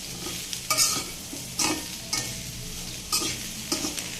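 Green beans being stirred and fried in a pan for a bean and potato dish, with a steady sizzle broken by several scraping stirs of the spatula at an irregular rhythm, close up and moderately loud, no voices.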